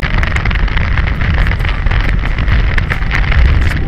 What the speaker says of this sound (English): The wind is pushing me back and forth.